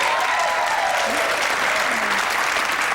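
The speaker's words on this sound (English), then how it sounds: "I think a nice round of applause will be in order there." A round of applause for a contestant at the Cinzano Model of the Year 1987 event, dense and even clapping from an audience throughout, with faint voices mixed in beneath it.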